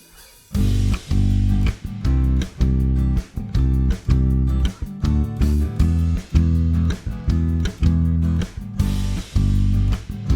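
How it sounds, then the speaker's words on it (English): A deep bass line plays a repeating rhythmic pattern along with a full song, steady and prominent, with drums punching through. "this is the first time that something actually sounds like a functional bass line"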